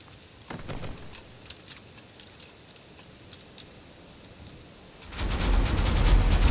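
Turrets in a space combat game fire at an armored corvette, with a short burst of rapid gunfire, then scattered faint shots, then a loud sustained barrage of explosive fire.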